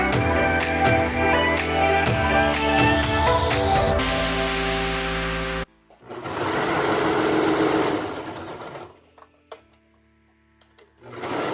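A sewing machine stitches a T-shirt sleeve in steady whirring runs, close and loud, with short pauses between bursts and a quieter stretch near the end.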